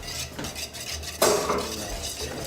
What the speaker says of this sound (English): take this whisk, and just slowly, it doesn't have to be beaten